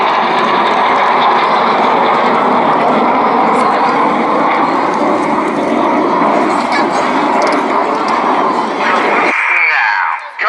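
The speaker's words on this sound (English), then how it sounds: "the pilots use lots of rudder to swing the jets out like a pendulum" Red Arrows jets flying a display at the Cleethorpes Armed Forces Day 2016 air show. The sustained engine roar is loud and broad, with crowd noise mixed in, then cuts off sharply near the end.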